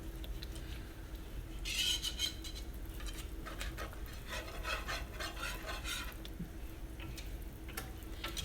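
Shrimp Alfredo sauce stirred in a pan, soft scraping and light clinking of a utensil against the pan over a low steady hum and faint simmer, close and quiet, without speech.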